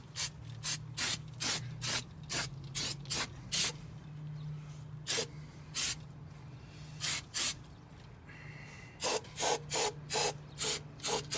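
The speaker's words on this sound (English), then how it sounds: "Hit it with some brake clean." Brake cleaner sprayed onto the rear brakes of a BMW E46, heard as a rapid run of short, loud aerosol hisses in bursts, with a brief pause midway before another cluster of quick sprays, close and alone.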